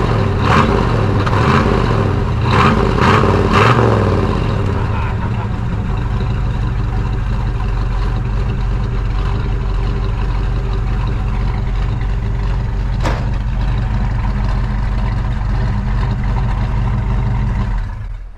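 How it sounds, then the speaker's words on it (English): A 1978 Pontiac Trans Am engine revs in a few quick blips, then settles into a loud, steady, rumbling idle, heard close with no talking. "I love listening to that engine rev."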